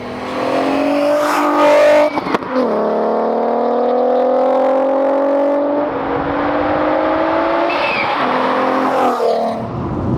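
Supercharged 360 bhp Mk4 VW Golf R32 engine revving hard, loud and close, with rising and falling pitch sweeps, a sharp gear-change break, then sustained high-rev howling with supercharger whine.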